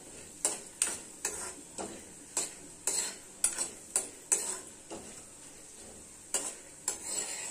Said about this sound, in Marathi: तेल छान गरम झालं की त्यामध्ये आपण या वड्या आहेत त्या घालू आणि छान परतून घेऊ